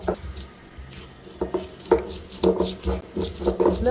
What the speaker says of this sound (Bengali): আদাটাকে আমি খুব মিহি করে বেটে নেব।